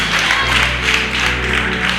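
A church congregation clapping in praise, a dense, loud and sustained wash of applause over a steady low organ-like hum.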